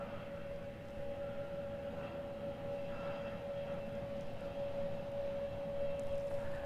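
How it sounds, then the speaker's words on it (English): A Cessna Caravan turboprop lands on a parallel runway at snowy alpine Queenstown Airport, a distant steady engine drone with a sustained whine over low rumbling background noise. "As a little Cessna Caravan is landing on the parallel runway as well"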